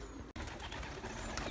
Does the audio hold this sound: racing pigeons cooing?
yes